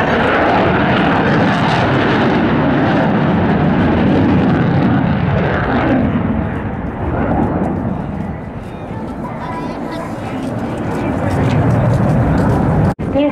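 An F-2 fighter jet flies at Ashiya air base with a loud, sustained roaring engine rumble that swells, dips and rises again, while an announcer speaks in Japanese over it.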